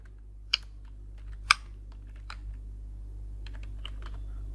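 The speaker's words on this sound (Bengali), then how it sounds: "যেমন আমি যদি এখন লিখতে চাই যে কবির" Keys on a computer keyboard are tapped while a folder is renamed during a beginner's computer lesson, a sparse, uneven run of light clicks with a couple of louder strikes, close and alone.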